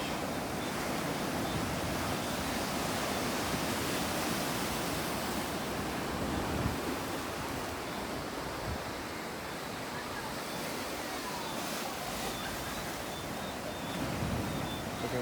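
Waves wash onto Worthing Beach in Christ Church, Barbados at night, a continuous broad roar of surf with wind buffeting the microphone and no clear individual breakers.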